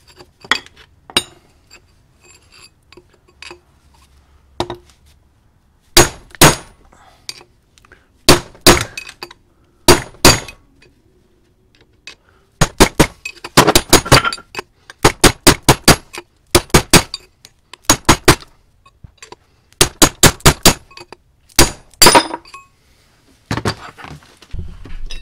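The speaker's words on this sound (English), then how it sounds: "Just use a drift pin and hammer it out." Sharp metallic strikes in short bursts of several quick blows, separated by pauses, loud and close with no talking: a hammer and drift pin driving out a wheel bearing race on a first-generation Cummins truck.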